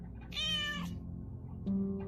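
A cat meows twice, close and clear, a drawn-out rising mew followed by a shorter one after a brief pause, with no talk over it.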